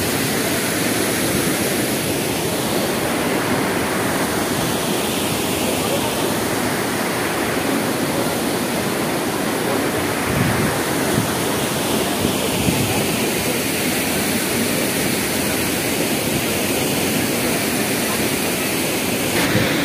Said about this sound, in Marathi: मी तर आता खूपच जवळ आलेलो आहे धबधब्याच्या.